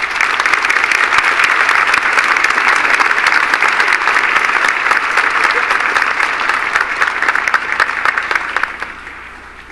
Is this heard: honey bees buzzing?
no